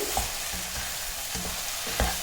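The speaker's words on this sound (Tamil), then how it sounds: "இந்த மாதிரி பக்குவத்தில் வதக்கிட்டு" Okra sautés with salt in a pan, a dense continuous sizzle with a few soft knocks of the spatula stirring through it, close and alone.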